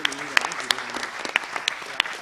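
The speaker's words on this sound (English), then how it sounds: "I want you to clap both for 4 and 5." Audience at a national quiz semi-final applauds the competing teams, a lively patter of many hands with sharp individual claps and whoops standing out over the steady clapping.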